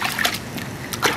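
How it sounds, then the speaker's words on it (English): A small boy splashing in water while wearing a bathing suit, giving a few brief, close splashes and sloshes in irregular bursts with faint background sound. "Splashing."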